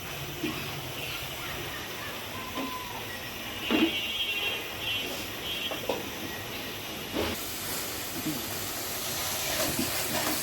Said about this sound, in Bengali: এখন আমি মশলাটাকে ভালোভাবে কষিয়ে নিব।